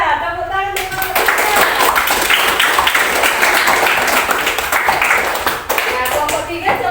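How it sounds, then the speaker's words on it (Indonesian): A classroom of students bursts into loud, sustained clapping for group 3 after a short spoken opening, many hands patting together in a dense, uneven rush with a few brief dips. "Tepuk tangan untuk kelompok"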